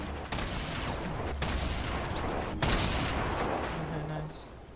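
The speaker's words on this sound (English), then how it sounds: "they're shooting behind us" Heavy video game gunfire rattles in dense, sustained bursts broken by a few sharp cracks, loud and close, with an enemy team firing from behind the player and voices talking over the din.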